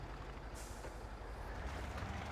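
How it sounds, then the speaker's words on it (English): Truck engine in the Spintires: Mudrunner video game, bogged down and stuck in mud in an open field, giving a steady low rumbling drone with a brief hiss partway through, alone without talk. "I think I just buried my truck."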